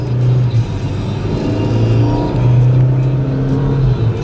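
A 2012 Chevrolet Equinox bought as a repairable salvage vehicle drives along a road, its engine a steady loud rumble with a slight rise partway through, heard from inside the car with no one talking.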